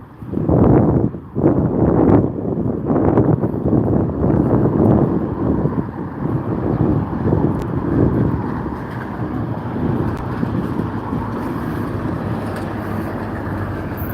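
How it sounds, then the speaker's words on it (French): Strong, cool wind in Paris buffets the microphone in loud, rumbling gusts, heaviest at first and then settling into a steadier low roar. "Un petit vent frais là, actuellement."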